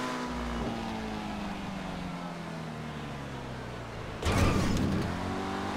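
Car engine in GTA 5 Online drones and climbs steadily in pitch under acceleration, with a sudden louder burst of noise near the end.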